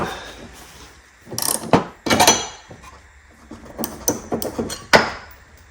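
A ratchet loosens bolts on a John Deere L130 48-inch mower deck, with irregular bursts of clicking and metallic clanks close by, fairly loud, separated by short pauses.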